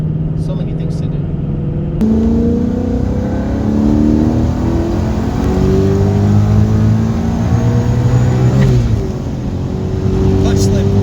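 Supercharged 2019 Mustang GT with a Vortech blower on E85, pulling hard in third gear from 60 to 130 with traction control off, engine note climbing steadily through the rev range, loud and close, dipping briefly at a shift before rising again.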